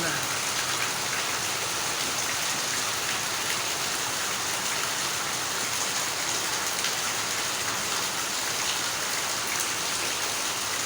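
Heavy, steady rain pours down for a long stretch, a dense continuous hiss of drops drumming on surfaces with no letup, close and fairly loud.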